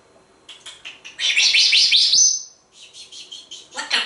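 A pet bird chirps close by and loudly, giving a few short chirps, then a sustained run of bright warbling tweets, a pause, and more chirps near the end.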